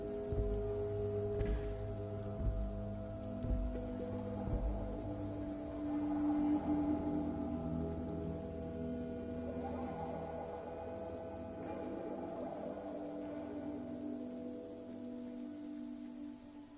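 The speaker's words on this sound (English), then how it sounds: "It's raining again." Steady rain in a video game patters and hisses continuously, with low droning tones and a few soft knocks underneath.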